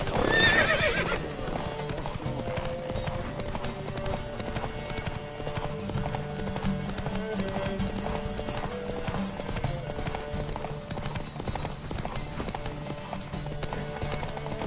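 Galloping horse in The Witcher 3 video game, steady rapid hoofbeats running throughout with a neigh near the start, over a continuous musical and ambient game backdrop.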